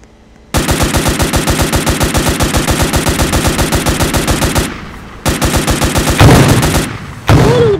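Rapid automatic gunfire from a video game weapon, long sustained bursts of evenly spaced loud shots with brief pauses between volleys and a few extra effects near the end.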